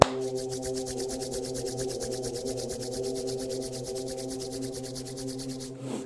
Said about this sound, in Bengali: হাত দুটোকে ঘর্ষণ করে যখন গরম হয়ে যাবে